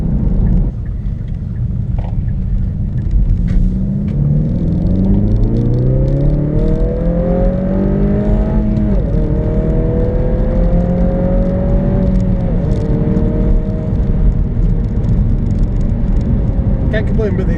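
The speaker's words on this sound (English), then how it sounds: "Can't complain about the acceleration." A 2016 Kia Pro_cee'd GT hot hatch accelerates hard, its engine note climbing steadily through the gears with brief dips at the shifts, loud and close over a rumbling road drone.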